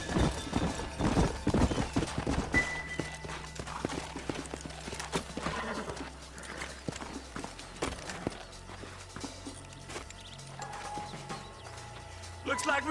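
Horses in Red Dead Redemption clip-clop steadily across the ground, hooves close and loud, with an occasional whinny as riders come to a halt and the pace slows.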